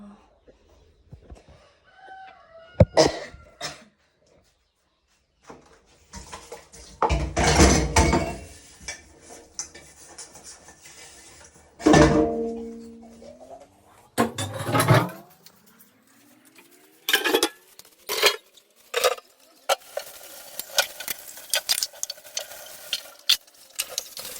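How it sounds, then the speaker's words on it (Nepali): Dishes being scrubbed and rinsed by hand produce irregular bursts of clattering and scraping with quiet gaps between them, while a rooster crows nearby. "मैले भाँडा पनि मस्काइसक्यो"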